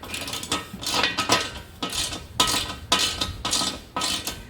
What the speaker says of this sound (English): I'm going to use my 13mm socket and ratchet